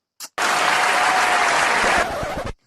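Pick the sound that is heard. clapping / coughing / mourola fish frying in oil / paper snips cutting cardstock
clapping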